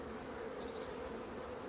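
Honeybees buzz steadily around a crowded hive, a dense continuous drone with a faint higher whine drifting in briefly, no voices.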